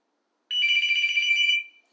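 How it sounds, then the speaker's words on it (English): A single electronic ring from an analog landline desk telephone, a bright warbling trill lasting about a second, clear and alone against silence. "The ringtone is loud enough."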